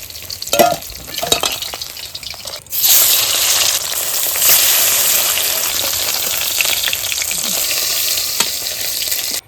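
Small sarpunti fish are dropped into hot mustard oil in a kadai. A few splashy crackles give way to a loud, sustained, close-up frying sizzle that runs on steadily.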